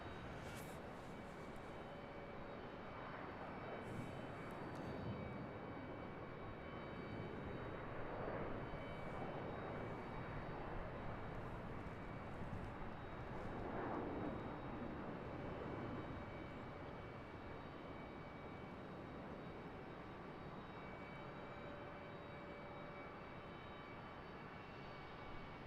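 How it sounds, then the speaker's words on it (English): An American Airlines A321 airliner arriving at Charlotte airport produces a faint, steady engine roar that swells gently several times over about half a minute before settling, with no talk over it. "American A321 arriving from RDU"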